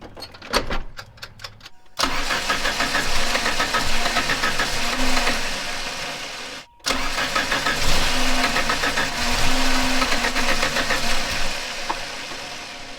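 A 1990 Plymouth Sundance cranks and fires, runs roughly with an uneven, surging idle, cuts out abruptly, then restarts and keeps running with a lumpy, wavering engine note, loud and close.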